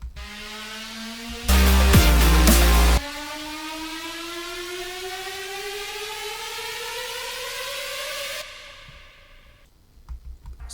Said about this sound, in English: And I have this riser that sounds like this.